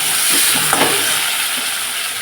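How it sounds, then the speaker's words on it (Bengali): Eggplant pieces fry in hot oil with a steady, loud sizzle and hiss, broken by a few soft scraping stirs near the start, with no talking over it. "এইবারে আমি বেগুনগুলো ভালো করে ভেজে নেব"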